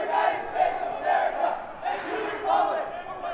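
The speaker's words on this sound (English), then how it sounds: "Eastview crowd chanting the Pledge of Allegiance here" Eastview fans chant in unison at a high school boys basketball game against Eagan, a loud, rhythmic crowd chant rising and falling in repeated waves across the gym.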